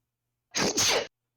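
One sharp, close sneeze breaks an otherwise quiet moment, with a quick double-burst shape and abrupt silence after.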